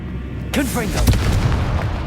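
A Confringo fire spell bursts in Hogwarts Legacy during combat with spiders, a sharp, loud, booming hit landing mid-clip beneath a voice, with the rumble trailing off afterward.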